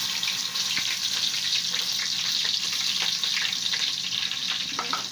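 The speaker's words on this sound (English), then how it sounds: "Let's turn in our" Chopped onions frying in palm oil for a soup make a continuous bright sizzle up close, with scattered crackles and soft stirring clicks over the steady hiss.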